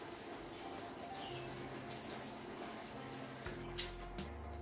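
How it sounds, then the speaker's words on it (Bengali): Cut vegetables being washed in a bucket of water, a steady close sloshing and splashing that runs throughout, with a few low knocks near the end. "বালতি করে জল নিয়ে বসেছি, একটা করে সবজি কাটছি আর ধুয়ে তুলে নিচ্ছি"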